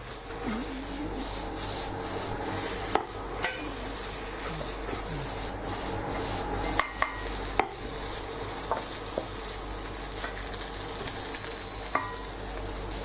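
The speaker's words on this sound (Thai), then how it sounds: "เร่งไฟสักนิดนะครับ ผัดให้ข้าวเต้นข้าวแห้งร่วนจะน่ากินนะครับ" Rice with holy basil and minced pork is stir-fried in a pan over raised heat, with a continuous loud sizzle and repeated scraping and tossing of the spatula.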